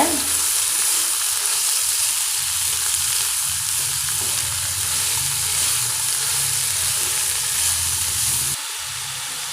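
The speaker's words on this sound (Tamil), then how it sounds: "இப்போ நாம் பீட்ரூட்டை சேர்த்துடலாம் நல்லா வதக்கிக்கோங்க" Beetroot and onions sauté in a pan for beetroot poriyal, giving a dense, continuous close sizzle and hiss that drops slightly near the end, with no voices.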